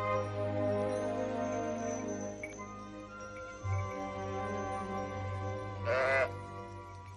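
Sheep bleat near a low sustained musical drone, a few wavering calls rising over the steady tones, with one loud quavering bleat standing out toward the end.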